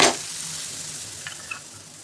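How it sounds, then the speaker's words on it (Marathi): Butter sizzling in a hot pan as thalipeeth roasts uncovered, opening with a brief loud hiss, then a soft steady fizz with a couple of faint clinks, no voices. "आता आपल्याला झाकण न ठेवता ह्याला भाजून घ्यायचे थोडंसं असं कडक. बटर टाकायचे."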